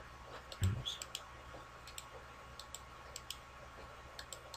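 A computer mouse clicks faintly and steadily at a desk during Cinema 4D work, with light, regular ticks after a single louder thump near the start.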